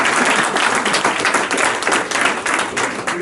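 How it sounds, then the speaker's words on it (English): A small group gives a round of applause, loud close clapping that swells and dips continuously for a few seconds with no one speaking. "Let's give him a great big round of applause"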